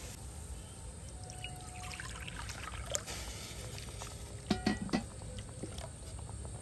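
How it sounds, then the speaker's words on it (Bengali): Water poured from a bowl into semolina in a pan while making semolina rasgulla sweets, giving a soft trickling and dribbling splash with a couple of brief louder sloshes near the end, close and fairly quiet. "এখানে আমি 1 বাটি জল নিয়েছি, জলটা দিয়ে দেব।"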